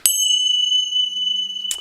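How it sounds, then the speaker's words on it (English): Bright metallic chimes ring once during a Sunday church service, a clear sustained tone with shimmering overtones that rings on alone and then fades, followed by a second soft strike at the end. "And the chimes"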